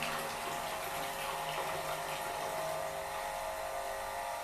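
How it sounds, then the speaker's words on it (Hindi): Water from a pressure pump pouring and splashing in a bathroom, a steady, hissing rush that holds continuously with no voices. "बाथरूम में अभी पानी गिर रहा है, देखिए पानी यहाँ पे गिर रहा है"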